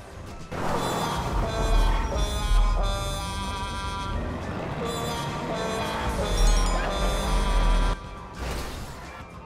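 A car horn in GTA 5 Online plays a descending sad-trombone tune, loud and sustained over dense game engine noise, crashes and background sound for most of the stretch.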